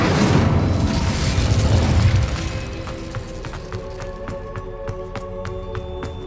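A fire spell bursts in the Hogwarts Legacy video game, a loud roaring boom of flame that fades into a softer crackle with a string of faint ticking clicks.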